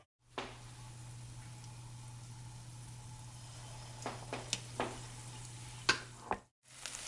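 Banana bread donut batter fries in hot oil with a soft, even bubbling hiss under a low hum, then several brief sharp clicks and taps near the end; no talking.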